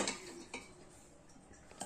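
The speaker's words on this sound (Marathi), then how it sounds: "आता मी जरा थोडेसे भांडे ते घासून घेते।" Household dishes and cutlery are scrubbed and washed, with soft clinks and scraping strokes under a steady hiss of running water, close and quiet.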